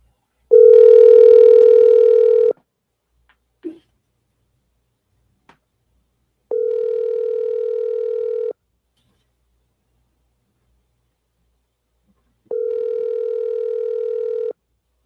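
Telephone ringback tone heard while calling someone: three loud, steady two-second tones spaced about four seconds apart, with faint clicks in the silent gaps.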